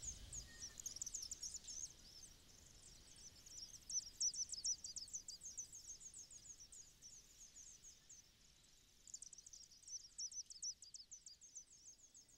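Vaux's swifts call from inside a chimney in Monroe, Washington, a faint, distant chorus of rapid high chittering that comes in bursts over a quiet background.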